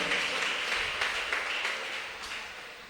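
A church congregation applauding during a sermon, a soft, steady patter of many hands heard from a distance, gradually tapering off, with no talking over it.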